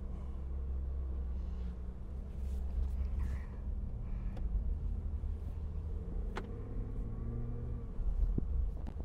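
A 2023 Land Rover Defender 90 is driven out to park. Its engine gives a steady, moderate, low rumble with slight rises in revs, heard from inside or close by.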